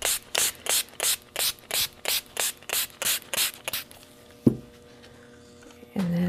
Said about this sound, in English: So I'm just going to spray down my paper towel.